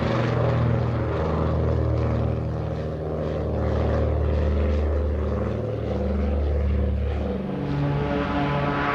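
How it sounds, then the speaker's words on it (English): Douglas DC-3 Dakota propliner with its piston engines droning in a loud, steady, continuous propeller roar throughout. "It's a Dakota Douglas DC-3 to be sure"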